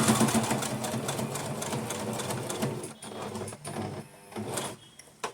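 A sewing machine stitches a small dhoti for a Laddu Gopal winter outfit, whirring close and steady for a few seconds, then stopping and restarting in short bursts.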